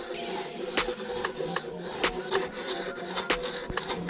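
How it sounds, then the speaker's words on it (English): A hand file rasps across hardened JB Weld on a curb-damaged wheel lip, giving repeated sharp scraping strokes at a steady uneven rhythm, close up and fairly quiet with no talk. "We're gonna use this file. I like to use a file on this lip surface right here"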